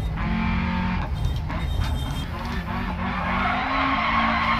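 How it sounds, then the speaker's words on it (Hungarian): Worn brake pads scrape on a Lancia Fulvia HF rally car in the Dirt Rally video game, a harsh grinding rasp blended with a steady engine drone and tire skidding, loud and continuous throughout. "mert így lehet hallani, hogy karistolódik. Elkoptak a fék pofák."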